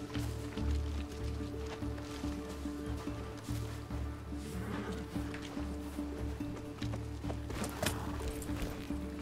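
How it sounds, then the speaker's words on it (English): Horses in Far Cry 6 carry riders along at a steady clip-clop of hooves, a continuous rhythmic thudding beneath ambient game noise and occasional rustling, fairly close and even in loudness throughout. "We're getting on different horses now."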